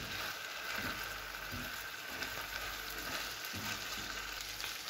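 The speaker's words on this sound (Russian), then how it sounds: "И рис немного обжарю вместе с луком и с мясом." Rice sizzles steadily in a pan with onion and chicken breast for a vegetable pilaf, a continuous close frying hiss with faint stirring and no voices.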